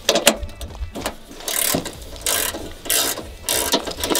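A hand ratchet clicks through repeated bursts while backing out headlight mounting bolts on a 2002 Dodge Cummins truck, with close, rhythmic metallic ratcheting and brief pauses between the strokes.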